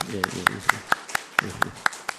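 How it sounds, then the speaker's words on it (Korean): A church congregation welcomes an associate pastor with a brisk, evenly timed run of claps, each one sharp and close, while a voice speaks over the first and middle beats. "우리 박수로 환영하겠습니다"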